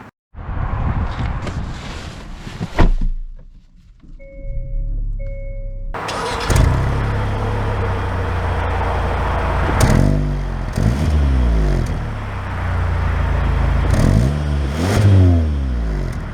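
A 2023 Hyundai Sonata N Line sports sedan has a warm engine idle, then a brief chime sounds before the engine starts with a loud crank and roars into strong, repeated revving, rising and falling close by.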